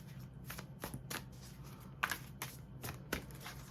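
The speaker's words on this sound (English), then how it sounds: "Let me shuffle these up." Tarot cards are shuffled close up in quick riffling bursts, crisp papery snaps repeating at an uneven rhythm over a low background hum.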